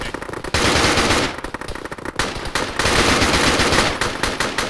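Sustained machine gun fire from a Vodnik vehicle's mounted gunner in a military video game, loud and close, rattling in dense rapid bursts with a brief lull partway through.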